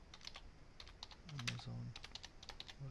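Quiet clicking of computer keyboard keys in a few quick clusters, faint and close, with a brief murmured voice partway through.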